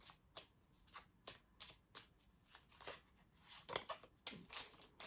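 A deck of tarot cards is shuffled up close: quick crisp riffling bursts and soft slaps in an uneven rhythm of repeated flurries, quiet and without speech.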